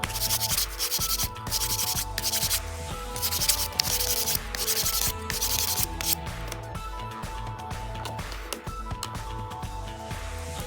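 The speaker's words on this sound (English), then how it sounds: "I'm gonna go ahead and break the edges with 100 grit sandpaper" Walnut tool-box handle, cut to 12 inches, having its edges broken with 100 grit sandpaper: steady close rubbing and scratching strokes in a continuous rhythm, with no voices.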